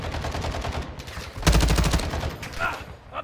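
Rapid bursts of automatic gunfire in a video game, with a louder burst of shots partway through, close and punchy.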